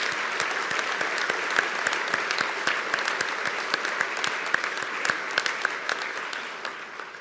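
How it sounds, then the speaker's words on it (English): An audience at an investiture ceremony claps in a steady, full round of applause that carries on evenly for several seconds before starting to fade. "I'd like to give him another round of applause."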